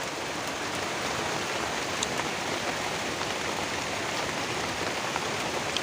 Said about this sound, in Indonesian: Hujan gede tuh.